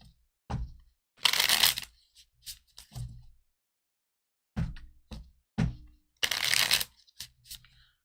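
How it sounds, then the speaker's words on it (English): Tarot cards are shuffled by hand during a psychic reading in several crisp, riffling bursts broken by short pauses, with a few small taps and knocks in between. "Let me shuffle and try that again, just in case."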